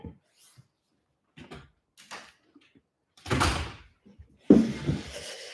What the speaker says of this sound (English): Close the door, it's a bit chilly.